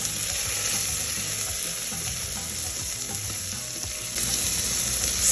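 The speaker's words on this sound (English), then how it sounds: "Let me just add some onions." Onions sautéing in hot oil with golden mustard seeds for a South Indian plantain curry, a steady close crackling sizzle with faint stirring, growing slightly louder near the end.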